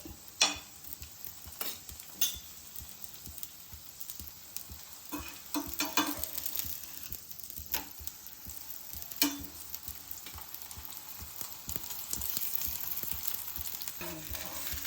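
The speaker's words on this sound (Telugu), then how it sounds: "నెయ్యి వేసుకొని పక్కలో కొంచెం నెయ్యి వేసుకొని కాల్చుకోవడమే, అంతే." Bakshalu flatbreads roast in ghee on a hot pan for Ugadi, a soft continuous sizzle with occasional scraping and stirring clicks close by, and no voices.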